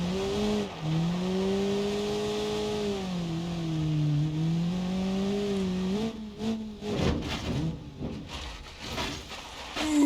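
A car in the BeamNG.Drive video game with electronic stability control turned off and weak front wheels, its engine droning and rising in pitch, then revving hard in bursts with tire noise.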